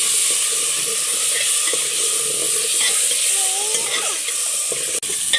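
Potatoes and peas frying with browned onion in a village kitchen pan give a steady, close sizzle that runs throughout, with occasional stirring scrapes.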